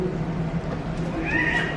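Wild cat at Busch Gardens Tampa Bay, an endangered tree-dwelling species, giving a drawn-out, rising meow-like call near the end over steady background murmur, fairly loud and close.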